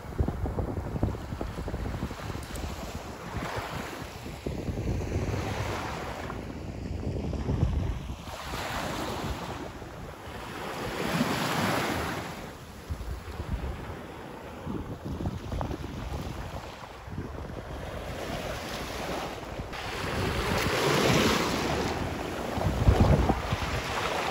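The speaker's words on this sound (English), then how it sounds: "relax and enjoy the ocean and the beach" Ocean waves wash onto the beach at Midnight Pass in slow, repeating surges, mixed with heavy gusts of wind buffeting the microphone.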